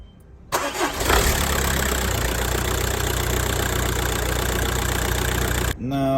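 An old daily-driver car engine cranks, catches and settles into a steady, loud idle right after a fuel filter change, running close by until it cuts off abruptly at the end.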